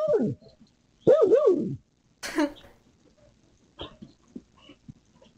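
A dog gives a few short whining, moaning vocalizations, then a throaty cough-like sound and a couple of soft snorts, close and fairly quiet.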